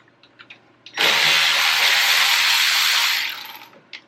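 A power tool whirs in one loud, steady burst of about two and a half seconds while backing out a brake caliper bolt on a 2015 Kawasaki Teryx, with faint clicks before and after.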